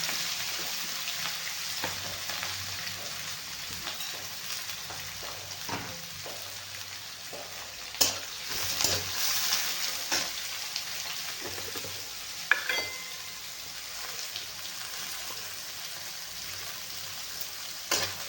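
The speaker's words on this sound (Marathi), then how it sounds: "कांद्याला आपल्याला चांगलं परतून घ्यायची कांदा चांगला लाल होईपर्यंत आपण ह्याला परतून घेऊया" Onion and a few garlic cloves saute in oil in a pan, a steady soft sizzle with occasional stirring scrapes, fairly quiet and close, no voices.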